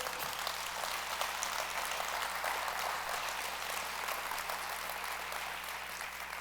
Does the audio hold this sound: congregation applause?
yes